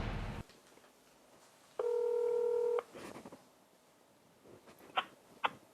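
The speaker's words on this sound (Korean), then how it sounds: "전화 한번 연결해 볼까요?" A single telephone keypad tone sounds for about a second during a call placed from a radio-style talk show studio, clear and steady, followed by faint clicks and handling noises.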